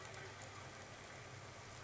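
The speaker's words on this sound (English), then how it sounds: "I have sound effects, basically of rain," Steady, faint wash of rain sound effect for a thunder-and-lightning scene, a continuous soft hiss with no distinct drops standing out.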